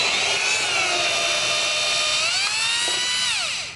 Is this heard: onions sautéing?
no